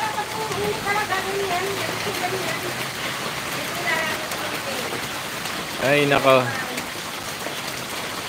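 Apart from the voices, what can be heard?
rain falling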